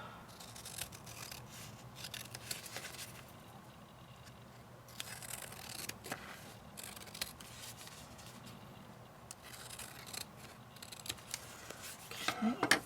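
Scissors trimming small pieces of paper for handmade pen pal friend mail, giving soft, intermittent snipping and rustling close by at a low level.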